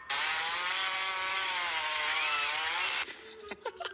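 A chainsaw sound from a video game drones at a steady high rev for about three seconds with a slight pitch wobble, then cuts off, followed by a few sharp clicks.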